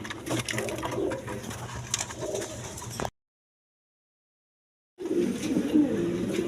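Young red checker pigeons coo in soft, repeated throaty rolls close by, the sound cutting out to silence for a couple of seconds before the cooing resumes.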